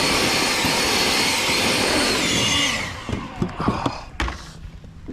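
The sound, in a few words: blower running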